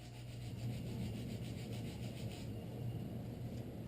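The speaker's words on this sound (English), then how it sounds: "I did the coarse sandpaper and then the smoother sandpaper" Steady rough rubbing and scraping of sandpaper against a steel carving blade, continuous and fairly close, with a low hum underneath.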